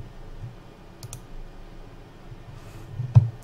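A couple of light, sharp mouse clicks on a computer desk, with a sharper single click near the end, against a quiet room hum and no talking.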